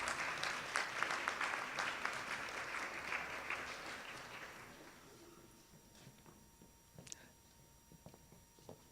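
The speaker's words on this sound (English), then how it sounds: "Give them a round of applause." An audience at a human trafficking forum applauds as a team comes up. Dense clapping runs for about four seconds, then thins out into scattered claps and faint room noise.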